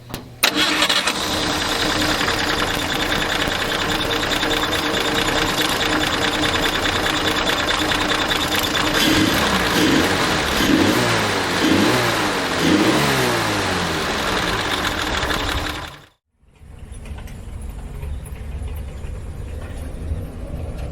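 A Jeep engine runs smoothly and steadily at close range with a continuous hum, then cuts off abruptly near the end, leaving quieter background noise.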